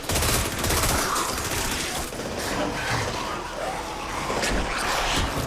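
Rapid bursts of gunfire from a Korean zombie TV drama set in a school, dense and continuous over a noisy, rumbling soundtrack with some voices mixed in.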